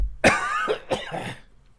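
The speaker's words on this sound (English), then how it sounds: "I'm going to cough now." A single person coughs several times in quick succession, close and fairly loud, with a throaty rasp between bursts.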